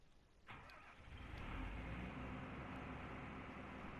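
A 9400 tractor mod in the farming game Giants Island '09 starts up with a single engine crank that catches about half a second in. It settles into a steady, fairly quiet idle rumble with no talking.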